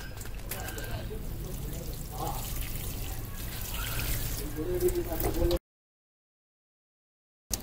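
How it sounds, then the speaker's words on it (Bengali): Water poured gently from a container onto the soil of a potted lemon plant during winter garden care, a soft steady trickle and splash lasting about five seconds before the sound abruptly cuts out. "এবারে আমরা একটু হালকা করে জল দিয়ে দেব"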